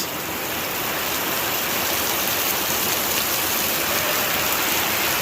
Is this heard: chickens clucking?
no